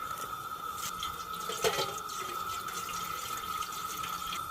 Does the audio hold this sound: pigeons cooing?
no